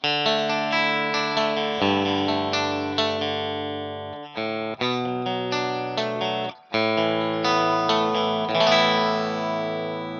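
A Gibson Les Paul Supreme electric guitar on its humbucker pickup plays a sequence of chords and single notes with a thick, slightly distorted tone, clean gaps between phrases and sustained ringing.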